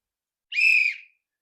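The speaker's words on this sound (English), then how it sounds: "Where's the whistle?" A single sharp whistle blast, about half a second long, bright and loud against total silence before and after.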